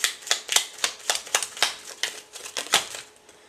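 Playing cards are shuffled and drawn for a tarot-style love reading, giving a rapid series of crisp riffling snaps and flicks in an uneven rhythm, close and clear with no talk.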